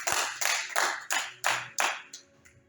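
A church congregation applauding together in a steady unison rhythm, about six loud, even claps roughly a third of a second apart, fading at the end with no voices.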